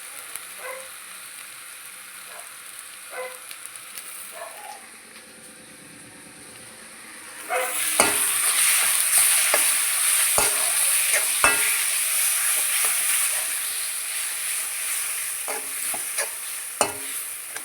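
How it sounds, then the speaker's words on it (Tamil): Tomatoes and curd go into a hot pan: quiet scraping stirs at first, then a loud sudden burst of sizzling that settles into a steady hiss, punctuated by sharp spatula knocks against the pan. "இப்போ நம்ம தக்காளி சேர்த்துக்கலாம். இது கூடவே நம்ம கொஞ்சம் தயிர் சேர்த்துக்கலாம்."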